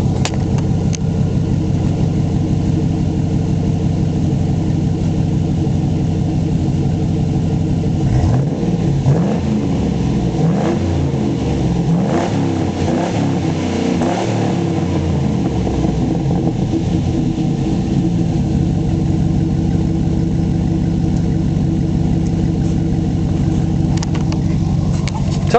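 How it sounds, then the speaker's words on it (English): A 2005 Chevy SSR with the LS2 Corvette V8 idles steadily up close, then blips its throttle through a series of sharp revs in the middle before settling back to a smooth, loud idle. "Of course, it's got the LS2 Corvette motor in it."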